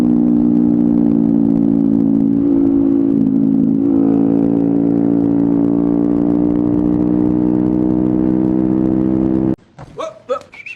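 A motorcycle engine drones steadily at a constant pitch while riding along the road, loud and close for most of the stretch, then cuts off abruptly into brief voices and clatter near the end.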